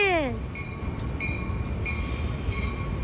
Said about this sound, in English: Let's see the Metra go by.